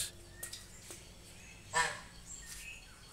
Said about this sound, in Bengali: গ্রামের রাজহাঁস।